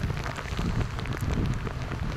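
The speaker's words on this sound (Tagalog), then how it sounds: "Kasabay ng malakas na ulan, may kasama ring" Steady, dense rain pours down and patters on surfaces amid strong wind, a loud continuous hiss with no voices.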